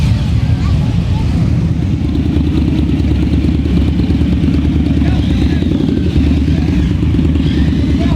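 Motorcycles arriving at a crowded bike gathering, a loud continuous rumble of several engines idling and rolling past up close, steady throughout.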